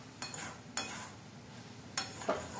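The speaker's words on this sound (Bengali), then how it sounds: "নুনটা দেওয়ার পরে আবারও বেশ ভালোভাবে একবার নাড়াচাড়া করে দিচ্ছি।" A spoon stirs ridge gourd curry with paneer in a pan after salt is added. Scraping, clinking strokes come in irregular bursts over a soft background sizzle, close and clear, with no talking.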